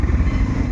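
A motorcycle rides along a winding road at night near a toll gate, its engine giving a steady, close, low rumble with constant wind and road noise and no voices.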